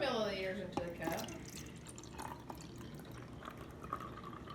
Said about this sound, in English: Now we're gonna pour 200 more milliliters into the cup